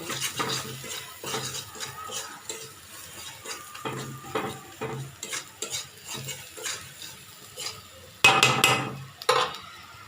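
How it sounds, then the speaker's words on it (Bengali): Rohu fish with chili, turmeric and cumin powder being stirred and fried in a pan: a steady sizzle broken by repeated scraping stirs, with louder clattering strokes near the end and no talk. "দিয়ে ভালোভাবে কষাই নিব আবার"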